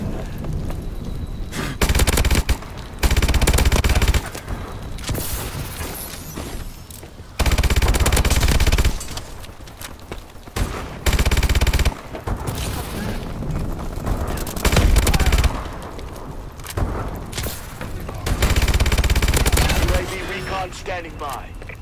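Loud bursts of automatic gunfire from Call of Duty: Advanced Warfare, in repeated volleys of a second or two separated by short pauses and quieter battlefield noise.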